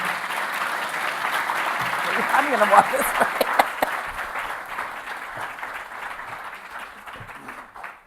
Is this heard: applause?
yes